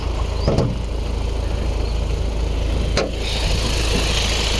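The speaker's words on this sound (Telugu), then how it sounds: "ఇంజన్ సౌండ్ వినిపిస్తాను మీకు." A 2020 Hyundai Venue SX(O) diesel with a Kia 1.6 engine idles close by, a steady low hum with a couple of brief clicks and knocks over the drone.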